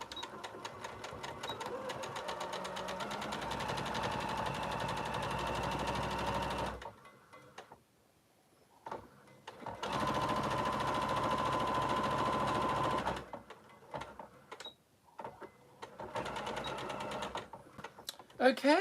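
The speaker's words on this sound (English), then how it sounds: "We just put that then through the sewing machine and sew up that seam when you're ready." A sewing machine stitches a seam on a fabric sling bag, running in long steady whirring bursts close by, pausing briefly between runs, with a voice speaking in places.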